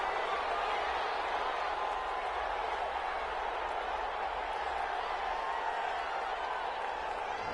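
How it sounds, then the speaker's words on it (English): Home crowd in a Madden 21 football game between the Vikings and Packers roars as a broad, steady cheer with no breaks, filling the scene throughout. "This home crowd, they're happy with that call."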